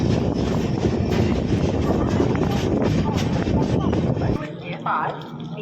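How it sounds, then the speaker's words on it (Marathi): A train pulls into a railway station on a Konkan route journey, with a loud, steady broadband rumble of the moving train that drops off abruptly near the end as it slows, with people talking over it. "फायनली स्टेशन आलेले आहे बघू शकता"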